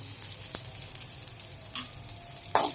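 Chillies frying in a pan for an Andhra-style coconut and raw mango chutney, a low steady sizzle with a few isolated spoon taps and scrapes, fairly quiet and close.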